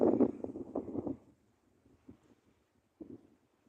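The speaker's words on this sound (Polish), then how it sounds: "Dosyć silny wiatr jest." Strong wind buffets a microphone outdoors near a Polish village, with heavy low rumbling gusts at the start that fade into quieter, scattered puffs and bumps.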